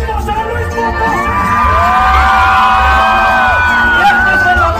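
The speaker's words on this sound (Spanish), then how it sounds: "¡que se oigan gritos a Luis Potosí!" A concert crowd in San Luis Potosí shouts, whoops and cheers loudly at a norteño music event, a sustained roar of many voices with rising individual yells over a low rumble.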